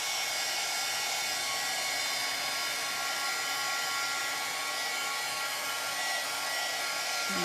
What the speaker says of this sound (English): I'm just going to quickly dry this. And if you're using an embossing gun like this